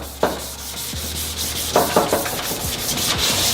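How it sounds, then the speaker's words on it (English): Steady abrasive rubbing of sandpaper across wet car clear coat, with several sharper swipes and a low hum running underneath. "that means you're sanding clear coat."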